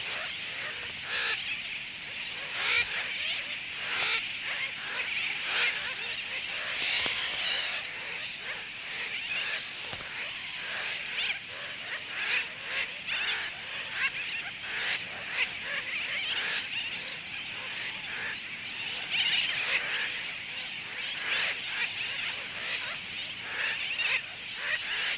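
A colony of terns on a remote Polynesian atoll calls continuously, outraged parent birds mobbing a land crab, with harsh overlapping shrieks and cries rising and falling throughout.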